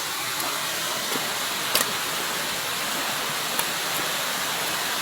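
Water cascades steadily down a forest waterfall, a constant rushing hiss that stays even and close, with a couple of faint brief knocks rising above it.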